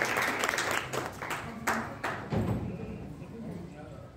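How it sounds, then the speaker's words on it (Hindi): An audience at a Hindi book launch claps to welcome a speaker, a brief burst of scattered applause that thins out and fades, with talk mixed in. "एक बार जोरदार तालियों से हम पद्मा जी का स्वागत करें।"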